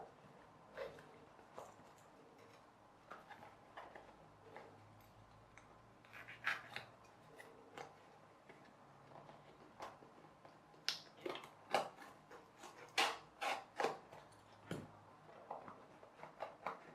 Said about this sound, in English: go ahead and cut out an access hole here so we can reach inside to wrap the rubber band round the axle.